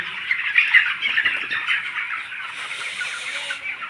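Chickens squawking loudly and continuously nearby, a dense overlapping chorus of harsh calls with no talking.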